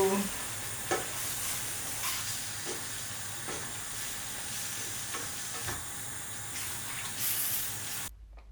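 Pad Thai sauce stir-fries in a pan with shrimp, a loud steady sizzle and hiss broken by periodic scraping and tapping of a utensil, close up, before cutting off abruptly near the end.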